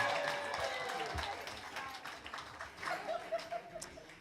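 Wedding guests break into applause and scattered laughter, loud at first and then thinning out, with a few voices and chuckles rising near the end.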